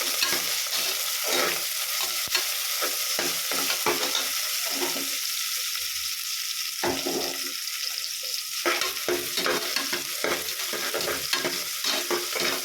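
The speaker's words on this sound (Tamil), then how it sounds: "வெங்காயம் நல்லா கோல்டன் கலர் ஆகிறதுக்கு வதக்கிக்கலாம்" Onions and green chillies sautéing in a pan for mint pulao give a continuous close sizzle with repeated stirring scrapes and clatter throughout, no speech.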